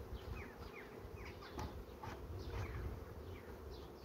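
Honeybees buzz around a frame of honey, a steady, faint, continuous hum with short individual wingbeat passes and no talk.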